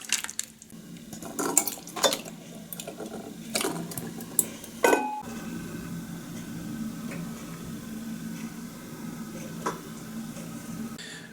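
Thick pumpkin and chilli chutney is spooned into hot sterilised glass jars, with a run of clinks, scrapes and soft wet plops from spoon and glass that thins out into a quieter kitchen background.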